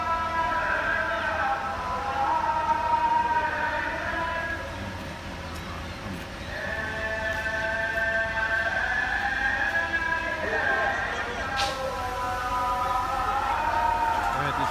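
A fire engine siren sounds at a blaze in an empty lot beside teachers' housing in Yerköy. The tone wails steadily and slowly rises and falls for the whole stretch, heard from a moderate distance.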